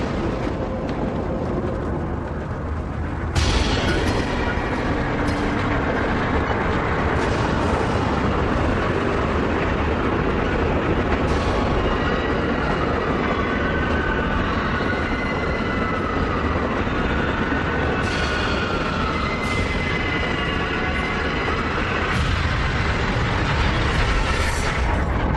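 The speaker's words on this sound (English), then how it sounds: "A car was broadsided by a speeding train just minutes ago." A speeding train tears past a car in a broadside collision, a loud, continuous roaring rumble that swells with sharp bursts and crashes, heavy and close throughout.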